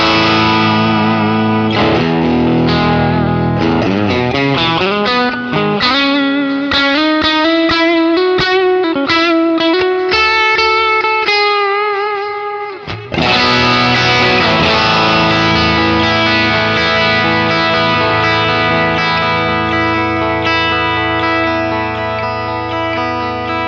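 Electric guitar played through an amp modeler with compression and distortion, picked riffs and sustained crunchy chords ringing loudly for over twenty seconds, with no talk.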